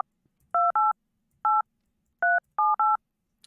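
Six crisp telephone keypad tones beep out as a number is dialled from a phone, each a short dual-pitched electronic chirp in an uneven sequence over near silence.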